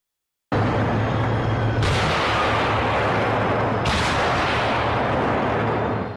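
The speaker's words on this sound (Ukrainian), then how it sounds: "Два влучних постріли і обидва у цілі." Two heavy Challenger tank cannon shots boom out a couple of seconds apart, very loud and close, with a continuous roaring rumble filling the space between them.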